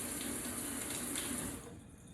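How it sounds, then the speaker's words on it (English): Water streams steadily from a tap while conditioner is rinsed out of hair, a continuous close hiss that eases off slightly near the end, with no talk. "rinsing all of the conditioner out"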